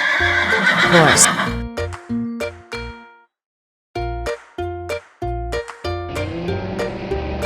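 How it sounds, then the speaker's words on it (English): A cartoon horse whinnies loudly near the start, then a bright series of electronic tones plays in short bursts with a brief pause midway. "Horse."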